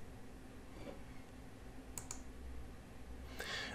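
A computer mouse clicks the Save button in QuickBooks Point of Sale software: a quick, faint double click close together, then another soft click near the end, over a quiet room hum.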